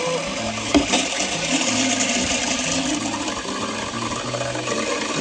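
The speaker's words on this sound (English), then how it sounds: "once it gets up to the level of the float in that valve, then it'll bring it up and shut off the valve to the water" Water pours steadily into a tank fitted with a float valve, a continuous loud rushing and gurgling with a brief splashy knock near the start and no talking.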